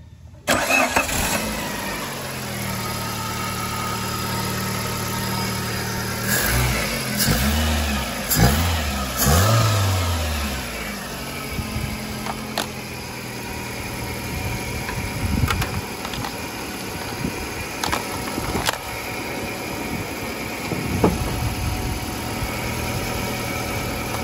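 A Chery QQ3 hatchback engine cranks and fires, revs up several times, then settles into a steady idle, loud and close-up. The car has an alternator overcharging fault.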